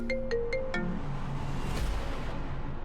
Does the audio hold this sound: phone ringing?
yes